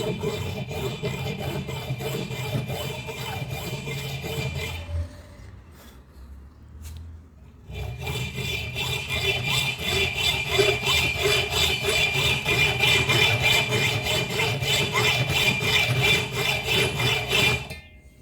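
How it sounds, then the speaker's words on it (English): Steady back-and-forth strokes of a hacksaw grinding through a gun barrel, with a brief pause partway before the rhythmic sawing resumes, close and loud. "So when you're sawing, you really don't want to push down on the saw."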